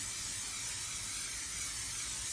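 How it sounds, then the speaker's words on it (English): Cooking spray hisses steadily onto the tops of raw biscuits in a home kitchen, one continuous close spray with no talking. "Spray the tops of those guys,"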